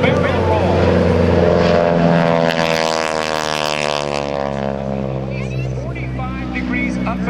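A T-6 propeller trainer flying a barrel roll at the Blue Angels homecoming airshow, its loud droning engine rising and falling in pitch as it passes, with an announcer talking over it throughout.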